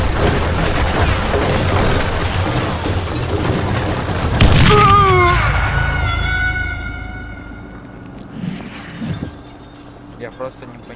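A heavy dynamite blast in the video game Call of Juarez: Gunslinger booms loudly over earlier chatter and game noise, then rings off into a fading tail with a few smaller thuds after it.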